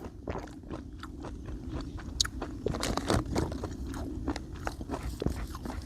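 Someone chews honey mandarin orange up close, with a quick, irregular run of wet, crunchy bites and mashing that fills the whole stretch, loud and near with no talking.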